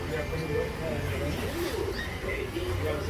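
Pigeons cooing at a flea market, soft repeated low coos in the background while people talk nearby.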